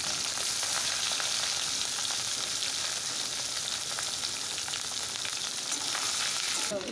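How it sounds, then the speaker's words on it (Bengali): Katla fish roe fries in oil in a wok, producing a dense, loud, continuous sizzle with crackling throughout and no voices. "কড়াই তেল দিলাম, ডিমটা আগে ভেজে নিচ্ছি।"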